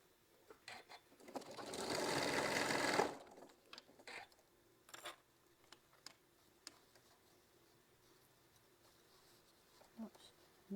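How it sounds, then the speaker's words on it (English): A sewing machine stitches a quilt block in one loud, steady whirring burst of about two seconds. Scattered clicks, handling taps and faint speech come before and after it. "let's get these last bits sewed up."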